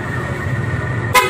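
Loud, close PIAA car horn sounding in two short blasts at the end, over a low vehicle hum.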